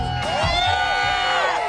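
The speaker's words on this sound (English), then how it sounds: "Eric Leines can hear the cheers of the crowd down below." Crowd cheering and whooping at a 1998 snowboard air and style contest at Mt. Bachelor, a steady roar of voices with rising shouts, heard from a distance below the slope.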